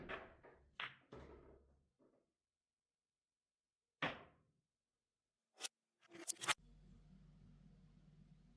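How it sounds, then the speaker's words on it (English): Pool balls clacking during a rocket masse shot on a billiards table, with the cue ball sent spinning back to pot the 8 and 9: a quick cluster of sharp clicks and knocks, a pause, then a lone crack and a final rapid flurry of impacts. "Pocket the 3 ball, the cue ball rockets back, hits the 9, makes the 8 here, makes the 9 there."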